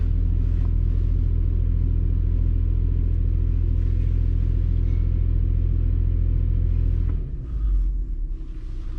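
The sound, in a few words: Toyota 4Runner engine revving while brake torquing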